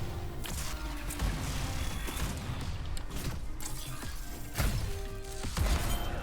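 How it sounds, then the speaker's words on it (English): Grenade explosions in the video game Anthem arrive as a chaotic run of cracks and crashing blasts over dense combat noise, several sharp bursts rising above the steady din. "A little bit of grenade action."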